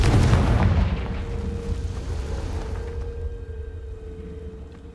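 A Confringo fire spell explodes in the Hogwarts Legacy video game: a loud blast at the start, then a long rumbling decay with a steady hum lingering underneath.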